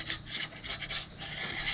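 Rhythmic back-and-forth 220-grit sandpaper rasping on an epoxy and wood tabletop, about eight close strokes in quick succession, no talking.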